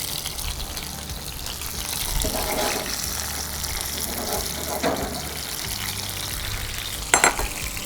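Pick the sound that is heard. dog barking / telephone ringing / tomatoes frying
tomatoes frying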